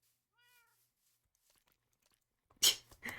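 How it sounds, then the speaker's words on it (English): Short, thin cat meow from a video game, followed after a pause by a louder burst of game noise. "Trying to catch a cat is the most difficult thing in this game for no reason."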